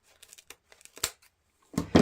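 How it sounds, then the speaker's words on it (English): Scissors snip through a stack of ribbon, a few short crisp cuts and rustles, then louder crunching slices near the end, up close and without talk. "Now take your scissors and just cut that ribbon off."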